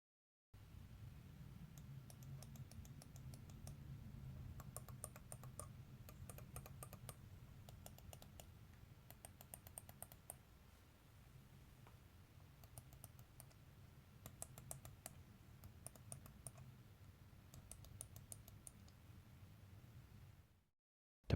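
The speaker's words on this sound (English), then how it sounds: "The push buttons have a good resistance and make a nice clicking sound." Push buttons on a VPG SimLab Elemento Formula sim racing wheel click in quick clusters of crisp, light taps, some bursts rapid and others spaced, heard close but quietly over a steady low hum.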